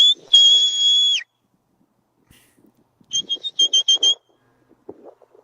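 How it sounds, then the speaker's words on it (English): A long, sharp two-tone whistle, a pause, then a quick burst of five or six short whistle blasts, loud and clear over quiet surroundings, as a shepherd's commands to a herding dog. "The dog is trained to respond to whistles."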